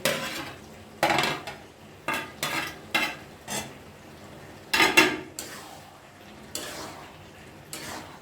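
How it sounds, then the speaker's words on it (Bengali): Prawns go into a pan of bottle gourd curry amid a string of sharp metal clinks and scrapes from a spoon against the pan, about a dozen irregular knocks over a faint sizzle. "তারপরে আমি মাছগুলো এই দেখুন দিয়ে দিচ্ছি"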